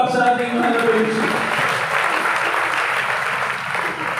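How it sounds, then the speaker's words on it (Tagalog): A church congregation applauds loudly during a worship service, a dense, steady wash of clapping hands carrying through the whole stretch, with a voice speaking over the start. "Malakas sa palakpak sa ating mahal na Panginoon."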